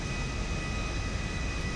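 A DC-9-15 airliner in the GTA 5 game rolls along after touchdown at Sandy Shores with power pulled back, a steady, continuous broadband engine and rolling roar at even loudness throughout.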